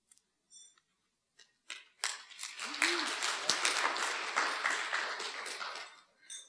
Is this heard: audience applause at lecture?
yes